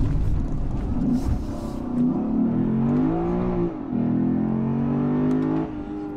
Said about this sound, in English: We'll do a pull out here and then I'll go into sport